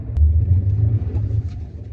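A BMW 520i engine rumbles low and steady from inside the car, with a brief swell like a light rev, no voices present.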